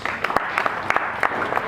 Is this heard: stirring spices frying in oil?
no